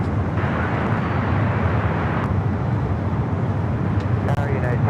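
A jet airliner rolls for takeoff on runway 25 right at LAX, a steady broad roar holding loud and close the whole time, with a commentator's voice running over it.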